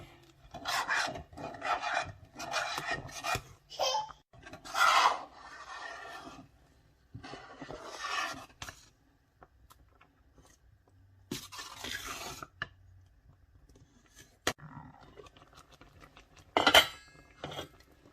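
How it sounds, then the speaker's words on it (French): A spoon stirring okra sauce in a cooking pot, with scraping, rasping strokes in irregular bursts, close up, with pauses between rounds and a sharp clink near the end. "Je remue."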